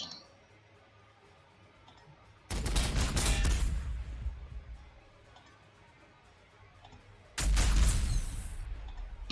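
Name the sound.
Leman Russ tank firing weapons in the video game Warhammer 40,000: Sanctus Reach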